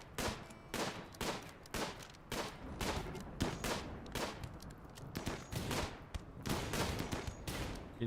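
Gunfire rings out in a colony-building game during a Naked Brutality start as colonists shoot at lightly armed enemies. Burst follows burst in a steady, rapid rhythm at moderate loudness, with no talking.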